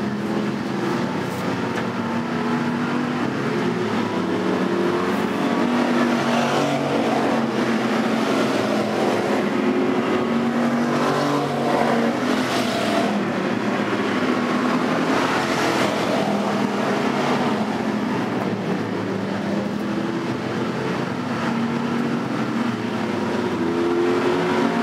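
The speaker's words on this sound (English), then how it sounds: "What a race down the back straightaway." Factory stock race cars roar around the oval at Diamond Park Speedway in a dense, continuous engine drone that stays loud throughout, with no voices.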